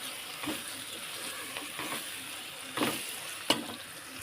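Ivy gourd (tendli) sabzi is stirred and mixed in a pan with spices and coriander, a soft steady sizzle broken by a few scraping spoon strokes, close and quiet.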